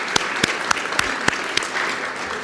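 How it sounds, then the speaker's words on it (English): Applause for past honorees at a STEM leadership award ceremony, steady crowd clapping with a few sharper individual claps standing out, moderately loud throughout. "A round of applause for our past honorees."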